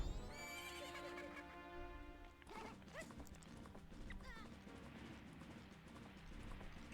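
Hooves clip-clop quickly as a horse runs in The Legend of Zelda: Majora's Mask on Nintendo Switch, with a loud whinny at the start over a constant game background.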